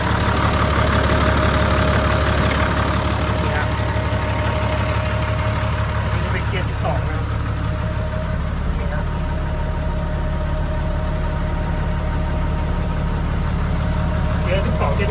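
A 12-speed gear tractor engine idling nearby, a loud, continuous low rumble with steady knocking vibration and no pauses, and someone talks over it.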